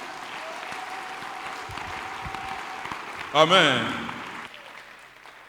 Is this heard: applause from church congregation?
yes